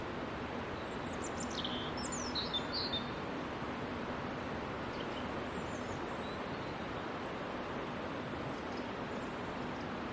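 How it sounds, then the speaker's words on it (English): A few faint, distant bird chirps and tweets in the first seconds, over a steady hissing background noise that continues throughout. "Listen to the birds."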